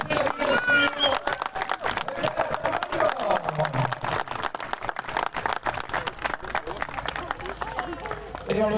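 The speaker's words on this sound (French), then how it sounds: "avec vos applaudissements, s'il vous plaît" Audience applause rings out at an eventing award ceremony in Saumur, dense sustained clapping from a large crowd with crowd noise mixed in, steady throughout.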